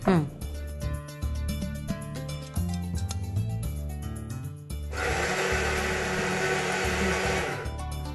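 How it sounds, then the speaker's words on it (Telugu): An electric mixer grinder whirs steadily for a few seconds as it grinds onions with chilli powder, turmeric and salt. Tonal background music plays before it starts. "ఇప్పుడు గ్రైండ్ చేసుకోవాలి"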